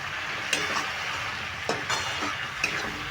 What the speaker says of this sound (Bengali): এবার আমি মশলাটাকে কষিয়ে নিচ্ছি